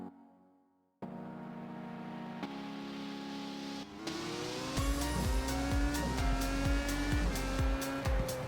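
Several V8 Supercars race cars in the iRacing sim at Sebring rev together on the grid, engines rising from a low rumble into loud, overlapping revving with sharp throttle blips and pitch sweeps, no talk.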